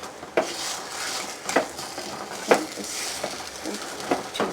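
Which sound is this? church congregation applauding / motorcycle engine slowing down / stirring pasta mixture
stirring pasta mixture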